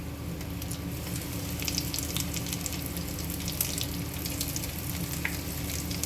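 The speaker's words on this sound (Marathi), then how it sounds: "थोडंसं तेल टाकून पापांची दुसरी बॅच फ्राय करून घेऊया" Brinjal slices frying in oil in a pan, a steady, loud, continuous sizzle and crackle heard close up with no talking.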